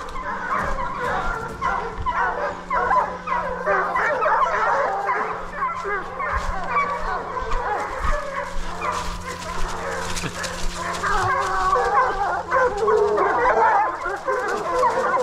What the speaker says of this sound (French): Les chiens ils lancent là